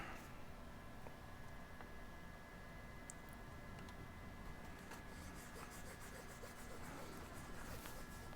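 Rubbing a round fabric patch into place by hand, giving a steady, soft rubbing and brushing texture that continues without pause for several seconds, faint and close.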